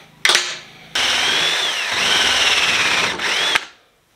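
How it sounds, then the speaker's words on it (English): A power drill whirs steadily as it bores out a stubby AR bayonet, preceded by a brief burst, then running for about two and a half seconds at close range with slight pitch changes before stopping. "The trouble is this needs to be drilled out for that"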